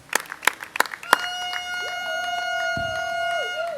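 Scattered claps from guests at a civil wedding ceremony, a few sharp hand claps that quickly give way to a sustained tone with a brief low thump.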